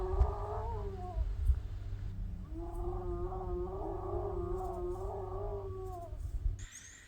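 Hyenas calling at night close to a campsite in Chobe's Linyanti Marsh area, a continuous stretch of rising, wavering whooping cries carried over a low rumbling background, sounding fairly near, with no talking.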